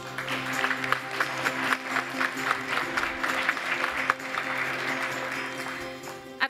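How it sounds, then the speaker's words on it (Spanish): An audience at an agricultural award ceremony claps in a sustained round of applause, moderately distant and even. It fades gradually toward the end, while a soft tonal background hum sits underneath. "Un fuerte aplauso para ellos"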